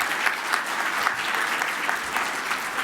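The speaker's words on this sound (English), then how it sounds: "let's give a round of applause to the Pipes and Drums Band and to the Color Guard." Steady, full audience applause at an annual awards luncheon for a pipes and drums band and color guard, an even wash of many hands clapping throughout, close and loud.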